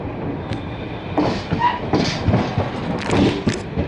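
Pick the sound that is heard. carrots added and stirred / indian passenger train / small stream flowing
indian passenger train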